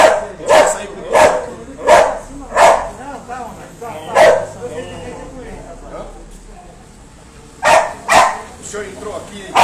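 Several dogs bark in a rescue from an animal cruelty case, loud and close, sharp barks repeating in rapid bursts with a short lull near the middle, and speech is mixed in among them.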